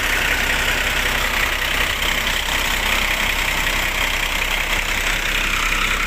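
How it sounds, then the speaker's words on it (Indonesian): Hino RK8R260 diesel engine of a coach bus idling, a dense, even rumble and rattle that holds steady and close throughout with no change in pace. "Nah ini engine dari Hino RK8R260."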